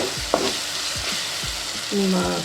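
Tomatoes sauté in a pan for a drumstick masala curry, sizzling continuously while a spoon stirs with soft scraping strokes.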